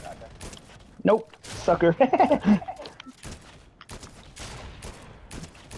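Shotgun blasts and other gunfire in a Fortnite match crackle in a rapid, loud burst, mixed with a player's excited voice talking over the shots.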